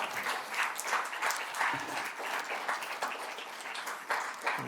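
A crowd applauds steadily for several seconds at a poetry reading, dense clapping at moderate distance with no speech.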